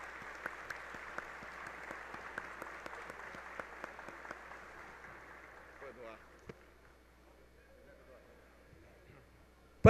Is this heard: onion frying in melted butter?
no